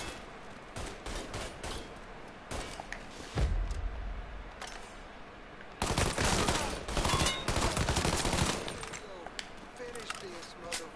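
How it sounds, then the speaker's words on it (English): Pistol gunfire in the video game Mafia 3, with sharp shots in scattered bursts and a heavier blast partway through, set against ongoing game noise. "Fair bit of accuracy for pistols they're shooting"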